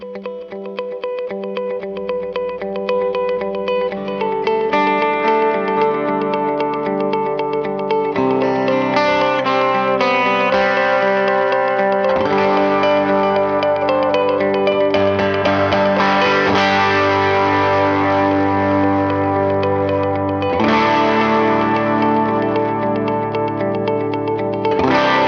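Electric guitar with heavy effects, layered looping chords and distortion, played continuously through a miked amp cabinet via a MESA CabClone, with a thick, washy, echoing sound.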